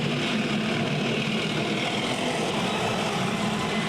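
An M1 Abrams tank engine idles with a low, steady rumble and broadband mechanical noise, constant and fairly close throughout.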